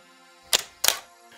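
An SLR camera shutter fires twice in quick succession, two sharp, close mechanical clicks about a third of a second apart, with near silence around them.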